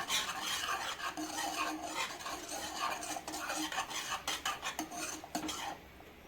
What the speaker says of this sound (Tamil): நான் மாவு போட்டு நல்லா கிண்டிடணும்.